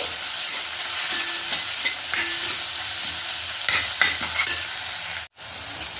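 Flax flower chutney frying in a pan on low heat, a constant loud sizzle with occasional spoon stirring strokes, close up and without talk.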